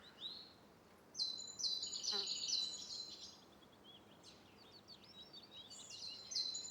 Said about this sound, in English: The robins return. The blackbirds test their voices.